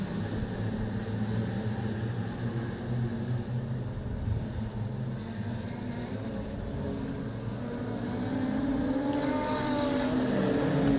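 Wingless sprint cars racing at Lismore Speedway, a continuous droning roar of engines that holds steady and swells louder near the end as a car closes in.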